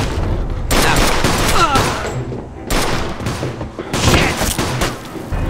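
Bursts of rapid gunfire from the video game Mafia II: Definitive Edition crack out in loud volleys with short pauses between, while a voice shouts over the shooting.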